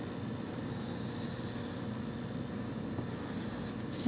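Pencil drawing a band on paper while making a princess craft from a recycled golf ball, a steady close scratching and rubbing stroke that continues for several seconds alone.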